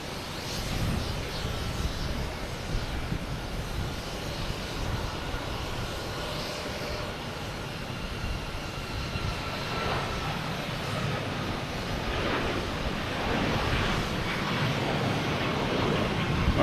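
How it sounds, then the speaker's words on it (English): A United Boeing 737 MAX 8 jet takes off at Boston Logan Airport, its engines a steady, fairly distant roar that slowly swells louder toward the end, with no one talking. "And United's a 737 MAX 8. Let's look at the takeoff."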